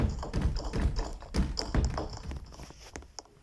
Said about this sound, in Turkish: Kapıyı çalıyor bir kişi.